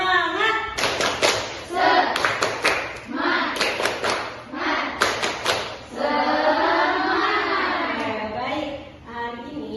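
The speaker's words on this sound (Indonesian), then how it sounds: "Tepuk semangat" Students in a classroom perform the tepuk semangat clapping chant, with bursts of rhythmic hand claps and thumps separated by young voices chanting along, the group loud and close.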